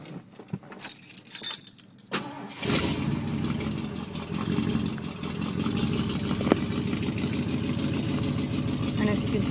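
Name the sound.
1970 Ford Galaxie 500 engine starting, dual glass-pack exhaust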